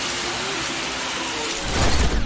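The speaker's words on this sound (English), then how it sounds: "Late summer rain in Carolina." Late summer rain in Carolina falls steadily in a loud, dense hiss of drops on surfaces close by, swelling slightly toward the end.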